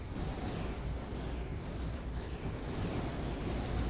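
Overhead train running on elevated rails along a city street in City of Heroes, a steady low rumble and rattle that holds evenly throughout at moderate loudness with no talk.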